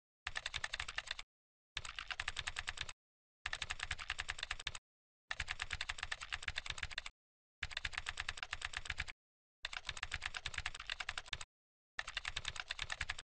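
Bursts of rapid typing on a computer keyboard, a dense clatter of keystrokes arriving in seven separate runs of roughly a second each, split by short silent pauses, close and clear with no voices.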